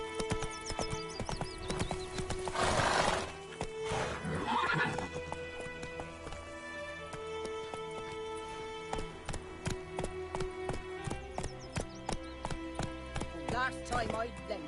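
Geralt's horse Roach from The Witcher 3 gallops with steady clip-clop hoofbeats and lets out a loud whinny, over game music and some voices.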